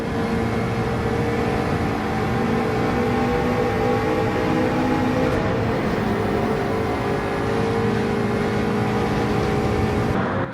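A racing car engine with a Jaguar close by, both pushing through a slipstream overtake into a braking zone; a dense, steady engine roar fills the whole stretch at constant loudness.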